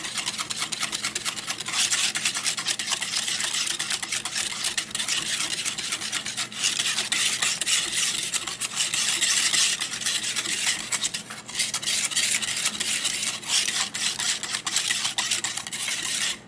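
Aioli being mixed with added turmeric in a bowl, a continuous brisk scraping and whisking of utensil against the bowl with brief pauses, close and fairly loud, no voices.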